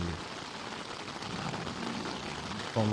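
Steady rain falling on a camping tent along the Camino de Santiago, a dense continuous patter filling the whole stretch with a brief low thump near the end.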